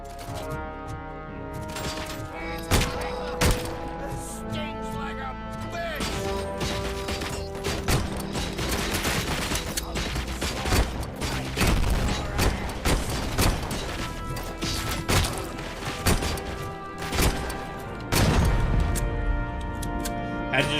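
Rapid gunfire crackles through a RoboCop: Rogue City shootout, sharp repeated shots and crashes layered over a steady bed of game music and ambience, moderately loud throughout.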